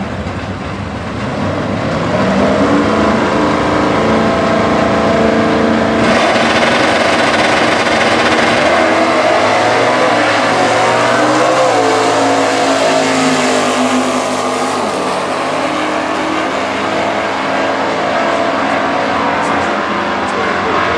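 A Stock Eliminator drag race convertible with a 302 engine and 4-speed roars loudly down the strip, the engine note rising and shifting through gears, with a commentator talking over it.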